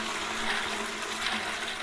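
A toilet flushing in a home bathroom, a steady rushing of water with a constant low hum that stays fairly loud and unbroken throughout.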